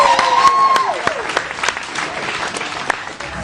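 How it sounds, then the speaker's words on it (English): Audience applause at a corporate boxing weigh-in, a steady wash of clapping from a crowd that carries through the whole stretch, with some crowd noise and brief voices mixed in. "can we get a big round of applause for Craig and Leonie Wilson from right here"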